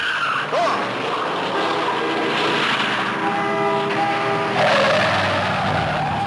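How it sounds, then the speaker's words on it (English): A Chevy Impala skids across the track during a car race, tyres squealing in long tonal streaks over a constant loud roar of engines and crowd. "It's a nice Chevy Impala."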